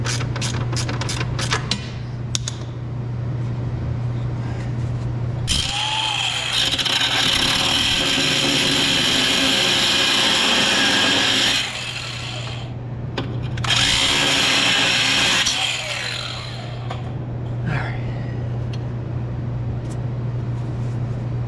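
A power tool cuts a bolt short while repairing a steam pressure washer, whining in two long loud bursts separated by a pause, with clanking and handling noise between them.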